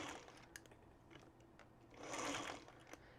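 Home sewing machine stitching a seam along the long side, with a backstitch; a steady mechanical whir swells loudest midway through, framed by faint clicks and handling noises, with no talking.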